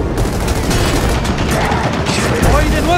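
Gears of War 4 combat: bombs are thrown at a turret, with dense bursts of gunfire and explosions layered over one another under the constant roar of the battle.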